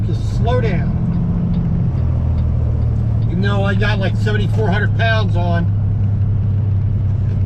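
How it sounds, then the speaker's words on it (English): Engine brake on a loaded flatbed truck slowing down, a continuous deep rumbling drone heard from inside the cab while someone talks over it. "Let that engine brake help you slow down."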